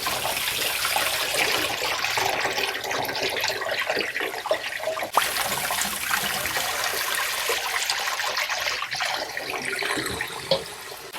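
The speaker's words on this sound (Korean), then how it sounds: "요거를 흐르는 물에 제가 씻겠습니다." Running tap water splashing over pine mushrooms as they are washed, a continuous close hiss and patter with brief shifts in the flow.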